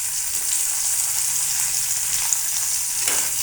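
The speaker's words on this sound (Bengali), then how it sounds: "এক এক করে সব পেঁয়াজগুলো ভেজে নেব। একটু হলুদ দিয়েছি যাতে তেলটা না ছিটকায়।" Onions frying in oil with a little turmeric make a loud, even, close sizzle that holds steady, with a faint stir near the end.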